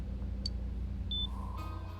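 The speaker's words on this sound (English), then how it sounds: "Why is there beeping?" Brief electronic beeps in the Persona 4 Golden video game, a short high tone followed by a longer steady beep over a low rumbling background, no talk.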